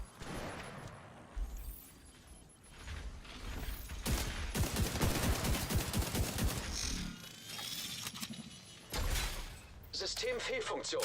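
Gunfire in The Division 2: a dense stretch of rapid automatic shots swells in the middle, with scattered bursts around it, heard beneath someone talking.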